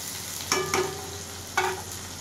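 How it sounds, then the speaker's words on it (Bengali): Garlic frying with onion in a pan, a steady soft sizzle with a few sharp spatula scrapes and clinks standing out. "পেঁয়াজের সাথে আমি রসুনটা ভেজে নিই"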